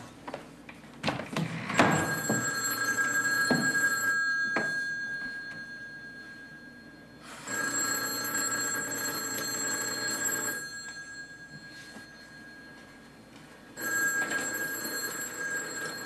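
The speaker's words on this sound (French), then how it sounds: "Il me semble que le téléphone sonne" A telephone bell rings in three long bursts separated by quiet gaps, loud and close, with a few knocks and a clatter near the start.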